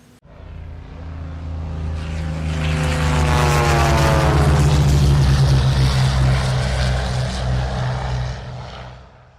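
An Unlimited class racing airplane at the Reno air races roars past with its propeller engine, swelling from a distance to a loud, close drone with a sweeping pitch shift, then fading slightly as it moves away.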